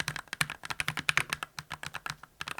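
Fingers type quickly on a 68-key tenkeyless wired keyboard with springy 36 g magnetic switches, producing a close, crisp run of clacky keystrokes in an uneven rhythm with no one speaking.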